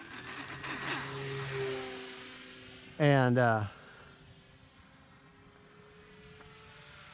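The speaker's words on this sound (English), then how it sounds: "We're going to do a no flap takeoff." An E-flite Cirrus SR22T RC plane doing a no-flap takeoff gives a brief, loud, rising electric-motor whine between quieter humming stretches, with someone talking.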